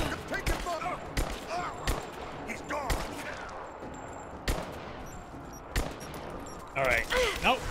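Rapid gunfire bursts crack repeatedly in the video game Rise of the Tomb Raider, sharp irregular shots near and loud, with shouting voices and a tense exchange mixed between the volleys.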